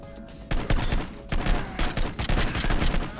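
Submachine gun fire in the video game Holdfast: Nations at War, loud rapid bursts of shots that begin abruptly after a brief quieter moment and continue densely to the end.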